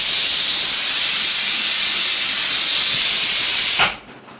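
A pressure cooker on a Kerala kitchen stove venting steam in a loud, continuous close hiss that holds steady for nearly four seconds, then cuts off abruptly.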